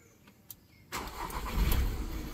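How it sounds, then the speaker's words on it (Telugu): A Volkswagen Polo Highline Plus 2019 diesel engine cranks once and fires up after a quiet start, settling into a loud, steady idle with a low rumble that swells briefly before evening out. "సింగిల్ సెల్ఫ్ ఇంజన్ స్టార్ట్ అయిపోయింది, చాలా బాగుందన్నమాట"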